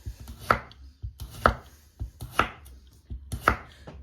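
A knife chopping a bottle gourd on a board in a home kitchen, four sharp, evenly spaced strokes about a second apart, close and crisp with faint scraping between them.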